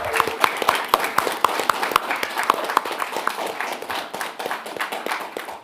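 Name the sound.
audience applause for the debate moderator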